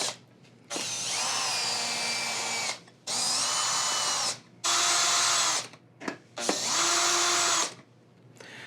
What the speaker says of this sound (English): puts it into the cordless drill here so that he gets a little bit of a longer extension on that screw bit